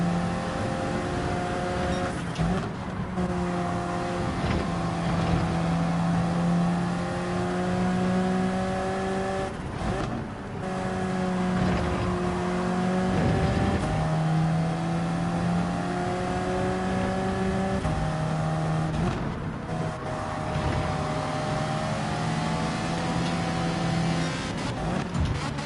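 Racing car engines from Gran Turismo 7, including a Ferrari, drone and rev continuously at close range, their steady tones shifting up and down through gear changes, with brief dips and swells as cars pass.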